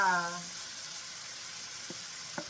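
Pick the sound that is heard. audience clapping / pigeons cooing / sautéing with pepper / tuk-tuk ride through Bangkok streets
sautéing with pepper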